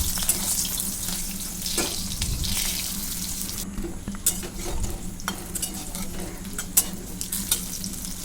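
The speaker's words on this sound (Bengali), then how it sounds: "এইভাবেই বাকি প্যাকেটগুলোও আমি সুন্দর করে ভেজে নেব।" Parcels of mustard paste wrapped in pumpkin leaves fry in a pan with a steady, bubbling hiss of oil, broken by occasional taps and scrapes of a utensil.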